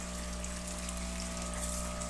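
Water circulating in an aquaponics fish tank, a steady pump-driven gush and trickle with a constant mechanical hum, close and continuous with no talking.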